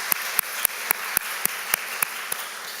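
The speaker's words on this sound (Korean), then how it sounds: "우리 성가대하고 찬양단 위해서 우리 격려의 박수 한번 하겠습니다" A church congregation at a Sunday service claps in encouragement for the choir and praise team, about ten slow, evenly spaced claps standing out sharply from a quiet room.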